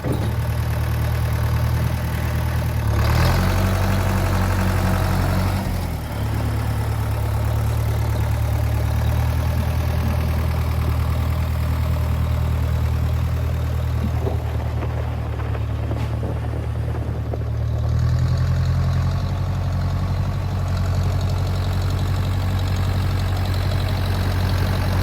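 A Case backhoe's diesel engine idles loud and close, a steady low throbbing rumble that shifts slightly in pitch a couple of times, with no one talking.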